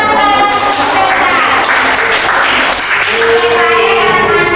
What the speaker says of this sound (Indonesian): Mari kita berikan tepuk tangan sekali lagi untuk Tenda.